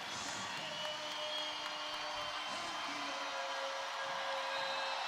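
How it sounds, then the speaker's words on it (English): A large arena crowd at the CEV EuroVolley 2023 final between Serbia and Türkiye roars in sustained, distant cheering and whooping, filling the space steadily throughout. "listen to the crowd erupt"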